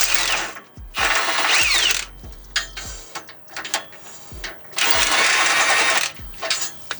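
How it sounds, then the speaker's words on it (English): A hand ratchet clicks in quick bursts while backing off exhaust flange bolts on a Ford AU Falcon, close and loud, with pauses, metallic clinks and brief mechanical whirring between strokes. "we just got to take off the flange area bolts that connect the cap with the cap back exhaust"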